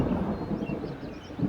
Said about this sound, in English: Thunder sounds really good.